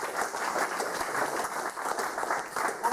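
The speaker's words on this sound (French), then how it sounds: "Applaudissez-vous." At an exhibition opening, a crowd claps for an artist in a continuous, moderately loud ripple of many hands, steady with slight swells and no talking.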